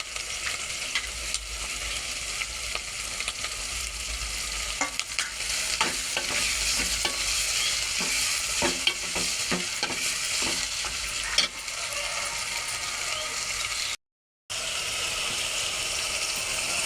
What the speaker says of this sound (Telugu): టమాటాలు కూడా వేగిపోయాయండి.